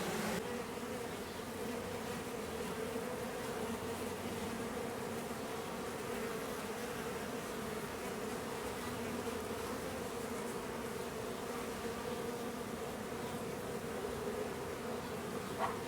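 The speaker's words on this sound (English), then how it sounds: "Man, that's a lot of freaking bees." Honeybees from a newly installed bee package swarm in a dense, continuous buzz that hums steadily and fairly close throughout, with no voices.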